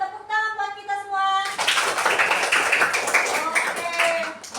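Third-grade pupils applaud together in an Indonesian primary school classroom, a dense burst of many small hands clapping close by for a few seconds, preceded by a teacher's speech.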